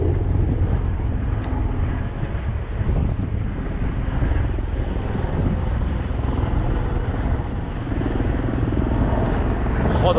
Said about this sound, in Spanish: 8 helicópteros